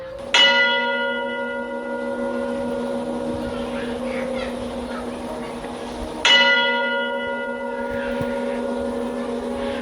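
A large bell strikes twice, several seconds apart, each stroke ringing out with a long, rich humming decay.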